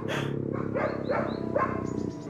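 A dog growls in a low, steady rumble held close and loud, with a few brief higher whining tones over it.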